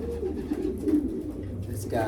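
A racing pigeon of Charlaskin bloodline coos softly in a breeding loft, a low, steady cooing murmur running through the moment with a faint rustle near the end.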